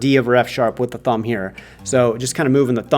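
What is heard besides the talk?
No distinct noise like a dog, phone or traffic.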